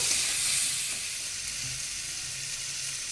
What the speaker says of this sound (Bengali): আর আগে থেকে বেটে রাখা সাদা সর্ষে আর কাঁচা লঙ্কা এর মধ্যে দিয়ে দেবো। দিয়ে এটাকে একটু নাড়বো